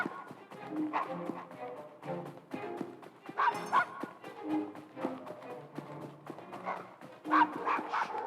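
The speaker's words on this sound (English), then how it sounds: "I can hear the dog barking." A dog in Assassin's Creed Syndicate barks and yips repeatedly in close, loud bursts, mixed with whimpers amid game sound and music.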